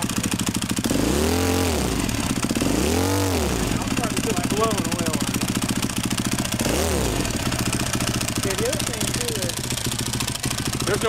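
A dry sump motorcycle engine idling with a rhythmic thumping chug, swept up in three quick revs that rise and fall in pitch, loud and close, while people talk over it.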